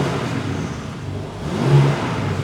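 A cold BMW M3 Touring (Ultimate Pack) engine is held at around 2,500 to 3,000 rpm, giving a steady, close, moderately loud engine drone with a slight swell in level near the end and no distinct exhaust pops.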